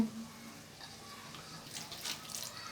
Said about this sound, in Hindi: और अब हम इसमें डालेंगे थोड़ा सा पानी